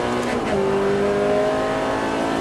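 Ferrari F430 F1 accelerating hard on a circuit during a driving course, engine note rising loud and steady with a gear change, continuous from start to end.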